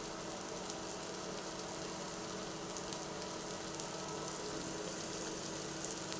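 Boiled potato being fried in a pan for rice-and-potato chops, with a continuous, even sizzle and hiss throughout and no speech.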